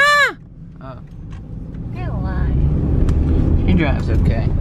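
A car being driven, its engine and road rumble building steadily and continuously from fairly quiet to louder, with a few brief voice-like sounds near the start.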